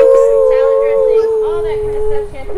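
A person imitates a wolf's howl at a zoo's wolf exhibit, one sustained, steady, close and loud tone lasting several seconds, with faint background voices beneath it.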